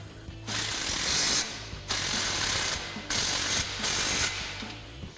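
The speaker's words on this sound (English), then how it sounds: "we'll grab our 15mm socket on our impact and we'll get that on our clamp here" Impact wrench fitted with a 15mm socket snugging an exhaust clamp on a Silverado dual exhaust. Four loud, close bursts of rapid hammering rattle are separated by brief pauses.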